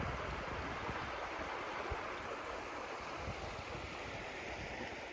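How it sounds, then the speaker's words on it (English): Water in a creek flowing outdoors on rural property, an even, steady rushing wash heard alone at low level, with no voices. "So I am out at the creek, this time at the creek on our property."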